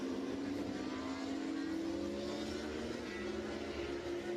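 Moto3 racing motorcycles at Assen during a race, a loud steady high-pitched engine whine held flat out with a slowly rising pitch and a brief shift near the end, dense and continuous with no voices.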